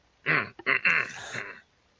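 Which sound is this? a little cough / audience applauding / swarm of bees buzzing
a little cough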